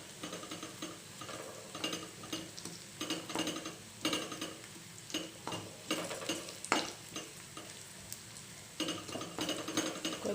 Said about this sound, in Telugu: కొద్దిగా ఫ్రై అవ్వాలండి ఈ ఆయిల్లో.